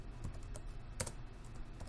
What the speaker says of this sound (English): Now we're going to type in Slackware